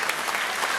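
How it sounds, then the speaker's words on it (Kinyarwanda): Church congregation clapping, a brief burst of dense, even applause that fills the moment without voices over it. "Ukomera amashyi Umwami Yesu."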